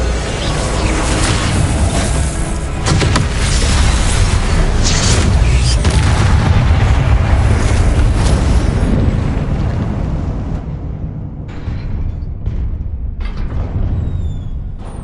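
Confringo spell blasts in the Hogwarts Legacy video game, a dense continuous roar of booming explosions and bursts, loud and close throughout, thinning toward the end with a few separate hits.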